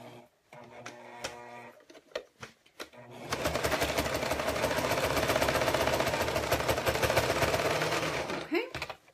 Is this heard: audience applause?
no